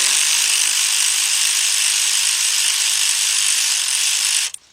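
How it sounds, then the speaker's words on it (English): A cordless ratchet whirs continuously at close range for about four and a half seconds while unbolting a 10mm coil bolt, then stops abruptly. "this is where your cordless ratchet comes in place"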